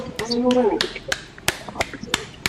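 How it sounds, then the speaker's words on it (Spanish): A handful of separate, crisp claps come through an online video call honouring José Garay, spaced irregularly like a few participants clapping alone, with a brief voice near the start. "Le damos un aplauso a José Garay"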